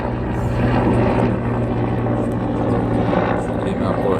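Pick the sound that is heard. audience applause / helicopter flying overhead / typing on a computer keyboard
helicopter flying overhead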